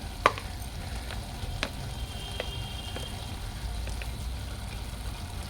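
Curry leaves and chili powder frying in oil for a chicken leg curry, a steady low sizzle with a few sharp crackles and pops near the start, continuous and fairly quiet with no talking.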